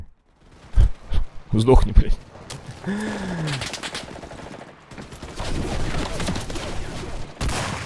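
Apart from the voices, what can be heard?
machine gun fire in the video game Enlisted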